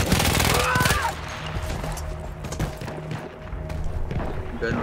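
Rapid gunfire from the video game Battlefield 1, played on the Avanti Savoia mission. Sharp shots come in dense bursts that start out loud and continue as scattered cracks over a busy battlefield din.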